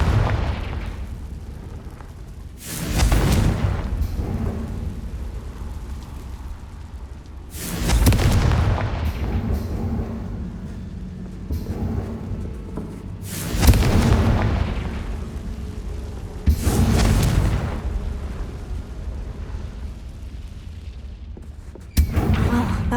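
In Hogwarts Legacy, a Confringo fire spell bursts in a deep, booming blast that recurs several times with quieter gaps, each explosion loud and close before it trails off.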